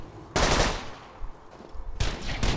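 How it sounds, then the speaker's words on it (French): Bursts of automatic gunfire from a gun in the video game Borderlands 2, with two loud, dense volleys separated by a brief, quieter gap. "C'est mortel parce que quand tu épaules, en fait, tu tires en rafale"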